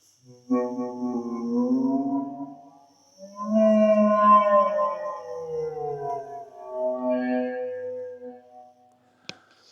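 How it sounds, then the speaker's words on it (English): Electronic meta-instrument run through a formant filter and subtle delay, producing whale-like gliding, moaning tones in long swooping phrases with rich harmonics, separated by brief gaps and ending in a sharp click. "So I was getting these kind of whale-like noises"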